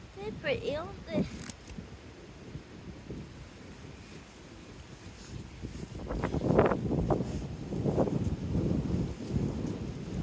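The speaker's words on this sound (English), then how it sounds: "Oh, it's really windy up here." Gusty wind buffets the microphone in rough, rumbling waves, growing stronger toward the end, with people talking briefly beneath it.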